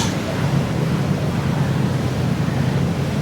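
Calm sea water with gentle waves washing steadily, a broad continuous rush with some wind noise on the microphone and no voices.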